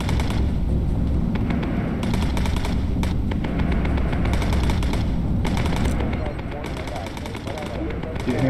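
Continuous rattling machine-gun bursts from a bomber's gun positions in a World War II flight video game, loud and dense throughout, with speech mixed under the firing.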